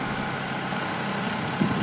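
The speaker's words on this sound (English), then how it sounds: "put the brakes on the tractor" A tractor engine idles steadily while a fence stretcher tightens goat fencing, a constant low mechanical drone running unbroken throughout with no voices.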